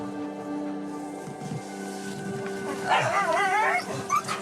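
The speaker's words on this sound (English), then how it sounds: "In the middle of nowhere, 3 dogs are locked up in a small and filthy cage." Three dogs locked in a small, filthy cage whine and whimper up close, with high wavering cries and a few short yips over a steady background hum.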